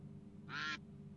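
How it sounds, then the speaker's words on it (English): A single short, bright duck quack cuts in over a steady low electrical hum, loud and close, then drops away. "ducks."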